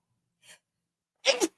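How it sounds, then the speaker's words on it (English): A single sudden human sneeze, preceded by a faint brief intake of breath, then a sharp close burst in two quick peaks in an otherwise quiet room. "That was a sneeze from like my toes up."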